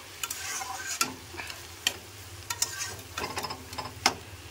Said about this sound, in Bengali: তবু আমি আরও 2 থেকে 3 মিনিটের জন্য মশলাটাকে কষবো।